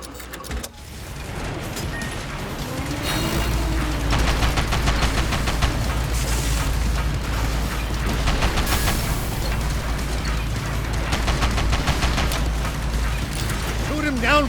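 Rapid bursts of enemy laser fire in the Sand Land video game, repeated pulsing shots over a steady low engine drone and game music, sustained and fairly loud throughout.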